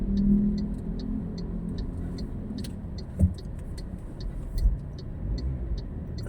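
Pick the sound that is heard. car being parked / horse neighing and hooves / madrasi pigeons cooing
car being parked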